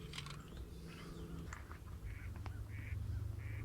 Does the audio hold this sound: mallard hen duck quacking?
yes